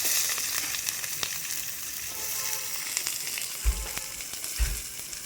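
Onions hit hot oil in a pan already holding curry leaves and coriander for a banana flower stir-fry, giving a steady close sizzle with a couple of louder low bumps as ingredients drop in.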